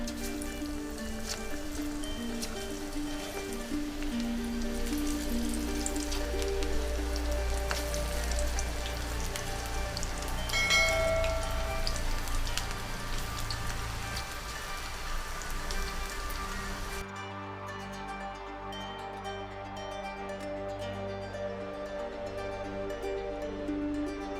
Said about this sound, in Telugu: ఆయిల్ కాగిందండి. పకోడీ వేసుకుందాం.